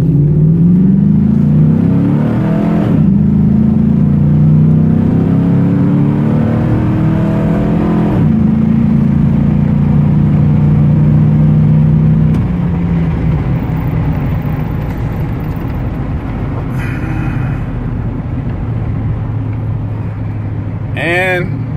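Rebuilt, cammed 5.3 LS V8 with headers in a 2003 GMC Sierra pickup, its loud, lumpy idle rising into sustained revs and settling again, with a person talking over it throughout.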